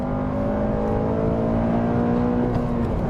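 Honda Civic Type R FN2 engine revving, a loud, steady, high-pitched four-cylinder drone held at sustained revs with a strong tonal whine throughout, heard alone without talk.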